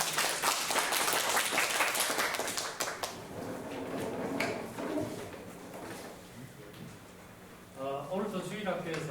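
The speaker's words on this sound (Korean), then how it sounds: "박수로 환영하겠습니다." A church congregation at a Sunday worship service claps to welcome Sunday school performers. The clapping is dense for the first few seconds, then thins out and fades into quieter room noise and voices.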